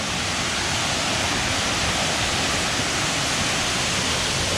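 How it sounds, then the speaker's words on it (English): The Salto de la India waterfall and a rushing creek at San Vicente de Chucuri, Colombia, pouring as a steady, loud, unbroken roar with no voices. "Okay, there's a lot of water."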